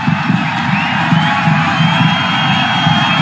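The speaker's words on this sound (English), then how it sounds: "Have a listen to the crowd." Cricket crowd at a Pakistan versus Nepal T20 match cheering a big shot, a sustained roar of voices with scattered whoops and shouts, loud and continuous with no commentary over it.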